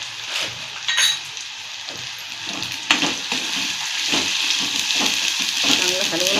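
Spicy masala with Kashmiri chilli powder for a Bombay duck fish curry sizzles steadily in a pan, stirred with occasional clinks of a spoon against metal, close and continuous with no talk.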